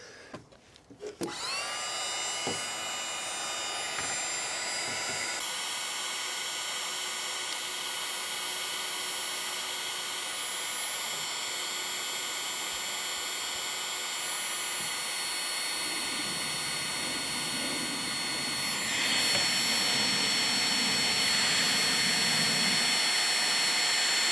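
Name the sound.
heat gun shrinking heat shrink connectors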